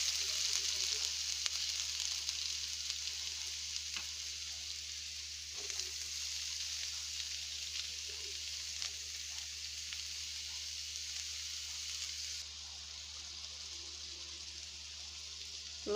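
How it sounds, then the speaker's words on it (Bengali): Onions frying in oil in a wok (kadai) while chicken with spinach is being cooked, giving a steady, fairly quiet sizzle that runs throughout with occasional soft stirring scrapes and no talking. "তেল দিয়ে দিলাম কড়াইতে, পেঁয়াজ দিয়ে দিচ্ছি"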